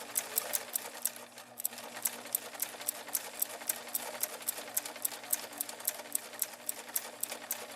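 A sewing machine stitches 100% cotton fabric and back stitches, a fast steady mechanical rattle of the needle throughout, close and loud with only a brief dip early on.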